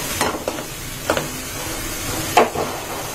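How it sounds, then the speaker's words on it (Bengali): Ginger, garlic and cumin paste frying in a pan while being stirred, a soft steady sizzle broken by three or four distinct scraping strokes of the spoon. "নেড়ে দিচ্ছি"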